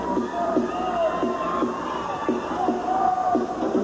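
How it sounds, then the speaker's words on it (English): Gymnastics teammates cheering from the background during a 1990 NCAA women's meet, a steady wash of crowd noise with scattered shouts and whoops running throughout. "here her teammates cheering for her in the background"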